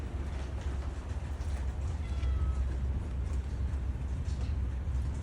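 A cat meows faintly a couple of times beneath a steady, heavy wash of outdoor rain and low rumbling background noise.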